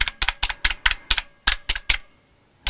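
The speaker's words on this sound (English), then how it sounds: "But I can hear the key switches going." Key switches on a Tandy CoCo 2 keyboard clack sharply in a quick run of about nine close, crisp presses, then stop.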